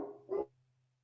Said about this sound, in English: Whoa, you have a big dog, huh?